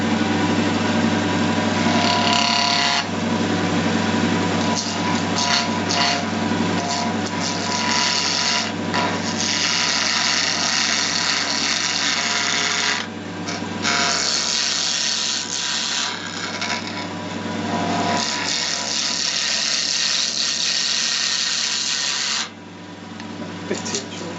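A pen blank of densely layered, patterned material is trimmed on a lathe for a Sierra Twist pen: a loud, steady machine whine with a low hum and continuous cutting rasp, dipping briefly near the end.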